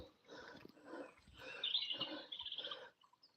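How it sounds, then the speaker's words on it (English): Birds chirping and singing in a British woodland in the evening, with several short bursts of bright calls at moderate distance over quiet background, no talk. "There's something about British woodland birds that's a bit special."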